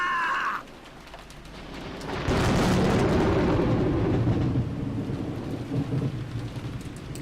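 A lightning strike in the visual novel Umineko: a sharp crack near the start gives way to a loud, broad rumble of thunder that rolls on over steady rain for several seconds.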